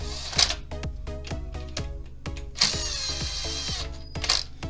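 An impact driver runs bolts into an engine during a camshaft install, giving three short loud hammering bursts with a rapid rattling ratchet texture, close up and alone.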